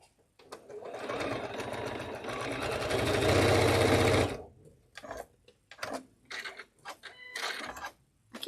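A sewing machine pieces a quilt with a steady, fast mechanical whirr for several seconds, then stops, followed by shorter stitching bursts and fabric handling nearby.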